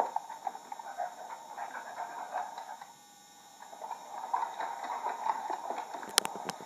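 A dog pants steadily close by and shuffles around, with soft paw and movement noises under a faint background hum.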